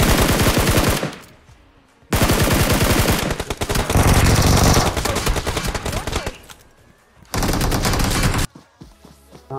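Automatic gunfire from the mobile game BGMI, played on an iPhone XR, rattles in long rapid bursts broken by short silent gaps, loud and close.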